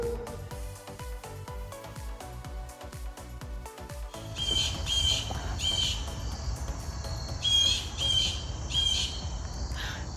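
Harsh bird squawks repeat in short bursts over a steady noisy background, following a stretch of plucked, rhythmic music that fades out.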